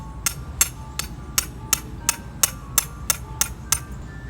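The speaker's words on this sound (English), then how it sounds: "Tapping the rebar into the ground is very easy" Rebar stakes being tapped into the ground for outdoor Halloween ghost decorations, about a dozen sharp, evenly spaced metallic taps at a steady pace, moderately close over a quiet background with no talking.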